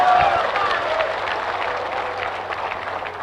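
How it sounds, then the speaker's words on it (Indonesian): Applause from a large audience, a dense wash of clapping that holds steady throughout, with some voices mixed into the crowd noise. "Kalian enak aja tepuk tangan"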